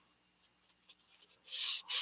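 A wooden duck decoy is sanded smooth to take out deep gouges, with short, scratchy rubbing strokes that grow louder and longer toward the end, close up and with no talking.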